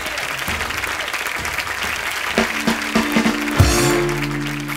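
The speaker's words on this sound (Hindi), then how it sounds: "तालियों से स्वागत कीजिए।" Studio audience applause on a TV comedy show, continuous crowd clapping throughout, with a brief musical sting and a low swell rising near the end.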